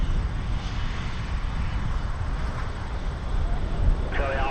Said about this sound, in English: A330, 300 to Montreal